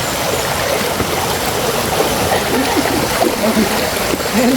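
Rushing water from a clear, clean waterfall in a natural setting, a steady broadband wash with small splashes throughout, fairly close and continuous.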